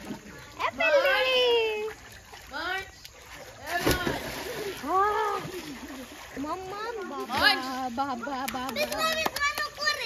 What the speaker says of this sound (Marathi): आमच्या मंचला पाण्यात पोहायला जायचंय